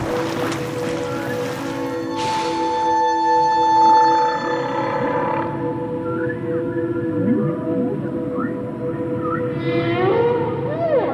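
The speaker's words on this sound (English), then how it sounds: "whales' mating songs are being heard from Canada to the Caribbean" Humpback-style whale mating songs drift underwater, with long tonal moans, rising whoops and sweeping cries layered over a low oceanic rumble, clear and unaccompanied by voices.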